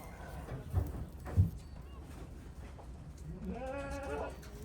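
Sheep bleat in a pen on a farm, a short wavering bleat rising clearly at the end over low background rustle and distant sounds, with other faint animal noises earlier.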